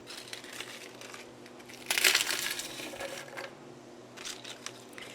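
Freeze-dried banana pieces squished down by hand, giving dry crunching and crackling bursts, loudest in one strong crush near the middle, with smaller crinkles after, close and without talk.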